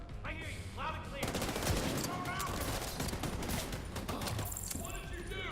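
Rapid bursts of gunfire from a The Division 2 firefight ring out loud and continuous, a dense volley of shots and sharp impacts layered with game effects.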